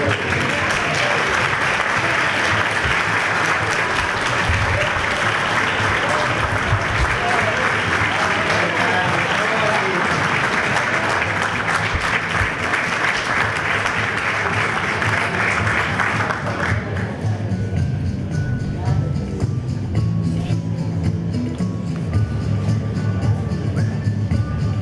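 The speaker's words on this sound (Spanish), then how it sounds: "Merece una renovación el aplauso, parece." A ceremony audience marking an institution's 25th anniversary with plaques breaks into loud, sustained applause, dense clapping filling the room for about sixteen seconds before fading to quieter scattered sounds and murmurs.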